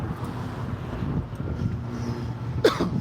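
A single short cough near the end, close to the microphone, over steady wind-buffeted outdoor background noise at a mass vaccination site in Inglewood, California.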